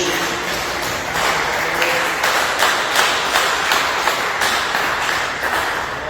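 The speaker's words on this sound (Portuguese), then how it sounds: "Quem pode dar uma salva de palmas bem alegre para Jesus?" A church congregation claps and applauds together for Jesus, a dense, continuous and loud patter of many hands that carries on throughout.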